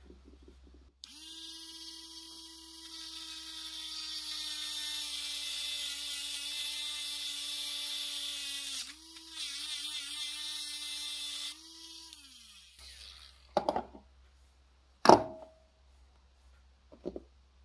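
Small cutting tool grinding a piece off the end of a broken clock click spring, a steady high whine for about eight seconds that drops and stops, followed by a few sharp clicks and taps.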